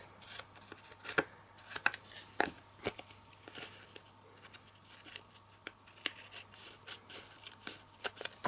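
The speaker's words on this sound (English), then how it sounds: "Trim off the edges." Scissors trim the edges of a patterned paper sheet glued onto cardstock, giving a quiet series of crisp snips and paper rustles at an uneven pace, close by and alone.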